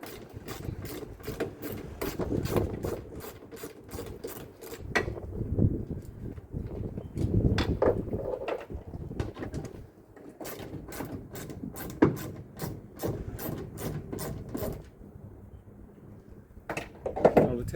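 A hand wrench ratchets rapidly on the 8mm tailgate taillight bolts of a Ford Raptor, rhythmic clicking in close bursts separated by short pauses.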